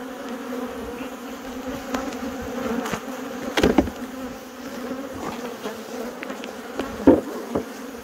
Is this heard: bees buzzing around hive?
yes